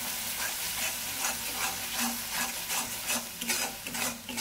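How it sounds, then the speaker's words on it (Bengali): Spice masala with green chilies stirred and fried in oil, a spatula scraping the pan in steady repeated strokes over a constant close sizzle, with no voices. "তো আমি কিছুক্ষণ মশলাটাকে কষিয়ে নেব।"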